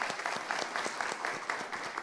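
Audience applause for two panelists at a symposium session on big data for safe mobility, steady rhythmic clapping from a modest crowd lasting the whole moment, even and fairly close.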